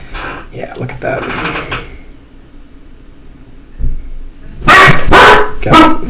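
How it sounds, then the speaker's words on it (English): Several dogs bark in sharp, loud bursts near the end, preceded by quieter indoor sounds and some whimpering, with a person speaking earlier. "The dogs are upset."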